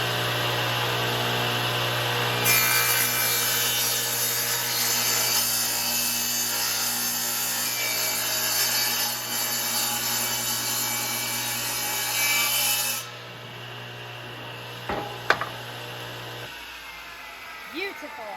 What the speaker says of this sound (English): When you use an aggressive piece of sandpaper, it will take some material off.